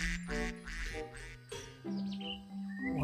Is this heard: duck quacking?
yes